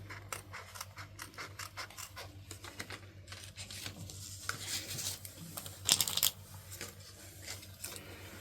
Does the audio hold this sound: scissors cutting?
yes